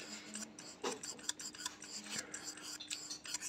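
Sandpaper rubbing slowly against a part of a single-needle sewing machine, a soft, quiet scratchy rasping in short irregular strokes, faint and close.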